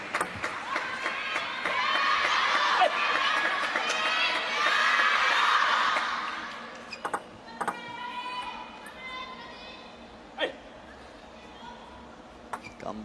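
Table tennis fans in a stadium crowd cheer and shout loudly for several seconds, then the noise dies down to scattered calls, ball pings and murmuring, with a commentator talking over it.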